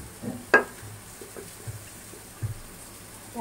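Spices sauté in a pan over a high gas flame for Kashmiri alur dom, with a faint sizzle and occasional soft scrapes and taps of a stirring utensil against the pan.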